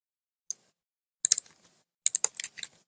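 Sparse keystrokes on a computer keyboard: a lone click, then two short bursts of quick, close taps with brief pauses between, no voices.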